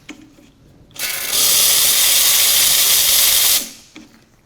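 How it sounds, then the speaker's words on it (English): A Lelit Mara X espresso machine's steam wand steams milk in a 600 ml jug, giving a loud, steady hiss that swells after a second, holds for about two and a half seconds, then cuts off. "And we're just gonna steam and see how it manages it."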